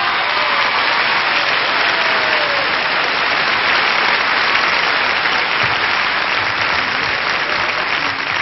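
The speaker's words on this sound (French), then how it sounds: "je voudrais qu'on l'applaudisse très très fort pour son professionnalisme et sa gentillesse" A television studio audience applauds Claude François in 1977, a loud, steady wash of clapping that holds at full strength from start to finish with no voices over it.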